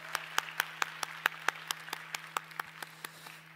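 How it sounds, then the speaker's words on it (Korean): Members of a Christmas Sunday youth worship congregation clap in a quick, fairly regular rhythm, the sound faint and somewhat distant over a steady low electrical hum. "하나님께 영광의 박수를 올려드립니다"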